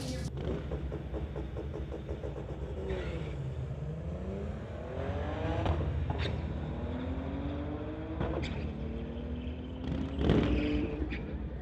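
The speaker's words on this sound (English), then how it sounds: "BMW taking his solo pass here at the Friday Night Street Legals on the titanium strip" A BMW street car launching down a drag strip at a Friday night street legal event, engine climbing through rising gear pulls with shift breaks, loud and steady, against background track noise.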